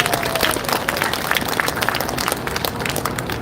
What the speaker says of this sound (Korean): 감사드릴 마음으로 한번 박수를 보내십시다